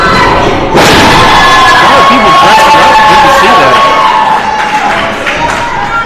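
An enthusiastic crowd at a Real Shoot Wrestling show in the Crystalline Ballroom cheers and murmurs under a commentator talking loudly over it, with occasional thumps.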